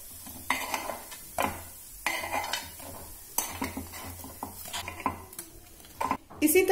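Cooked appe, crisp snacks made from leftover idli and dosa batter, are lifted out of an appe pan onto a plate. Repeated metal scrapes and clinks of a utensil against the pan come in bursts, with a soft sizzle underneath.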